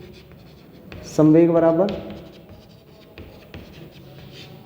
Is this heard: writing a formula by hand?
yes